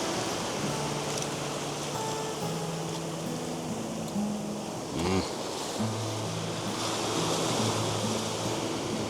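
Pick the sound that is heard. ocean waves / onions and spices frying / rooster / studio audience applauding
ocean waves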